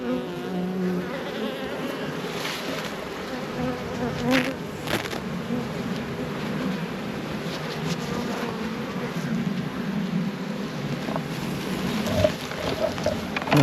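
A busy honeybee hive in a wooden Langstroth nuc gives off a steady, dense buzz of many bees, close and continuous, with faint knocks and handling sounds over it.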